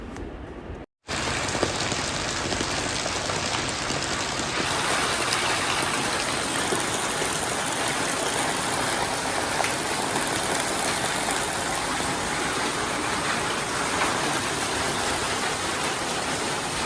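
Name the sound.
heavy rain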